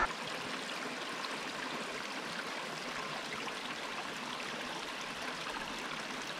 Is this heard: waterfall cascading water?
yes